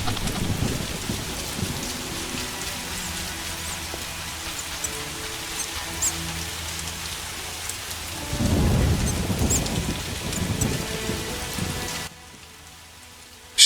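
Steady heavy rain pours throughout a stormy night scene in the video game The Witcher, Vizima Outskirts, with a deep thunder rumble swelling near the end before the rain drops to a quieter patter.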